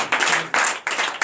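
Church congregation at an all-night deliverance and prophecy service clapping in acclamation, three or four loud, closely packed bursts of claps separated by brief dips, fairly near.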